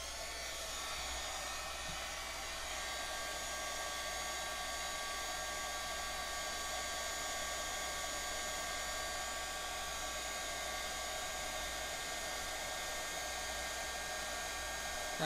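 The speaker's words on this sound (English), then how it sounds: "I'd kind of like to hit it with the heat and see if I can get some of the air bubbles out." Heat gun blowing steadily on resin to pop air bubbles, a constant close whooshing hiss with a whining motor tone that holds unchanged throughout.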